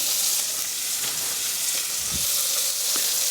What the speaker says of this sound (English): Alright, now the meat is pretty much browned here.